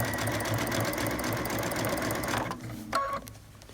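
A sewing machine runs a fast, rhythmic satin stitch on cuddle fabric appliqué, a steady close mechanical whir that stops near the end, followed by a few brief clicks and handling sounds.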